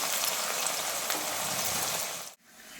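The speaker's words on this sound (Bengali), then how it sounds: "পেঁয়াজ ভাজতে বসিয়ে দিচ্ছি বেরেস্তার জন্যে" Onions fry in oil for biryani beresta, a loud, dense, close sizzle that cuts off abruptly near the end and then returns more softly.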